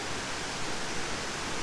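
A waterfall at a clear, cold spring gives off a steady, dense rushing roar. The close, continuous wash of water has no breaks.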